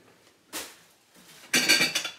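Dishes are being washed at a sink: two bursts of clattering tableware and cutlery, the second louder and more sustained, separated by near silence, with no talking.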